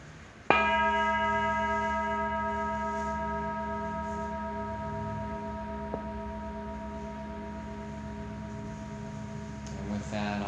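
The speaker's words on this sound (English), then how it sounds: "I'll sound the big bell to open our session." A big meditation bell is struck once to open a session, a single loud clear strike followed by a long, slowly decaying ringing hum that sustains for several seconds in a quiet room.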